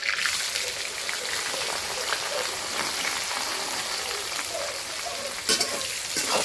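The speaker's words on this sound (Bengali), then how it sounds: "এখন আমি পেঁয়াজগুলো দিয়ে দিব সব তেলের ভিতরে" Onions tipped into hot oil for a Bengali chicken and liver curry sizzle with a steady, crackling hiss that runs throughout, with a brief louder burst near the end; no one speaks.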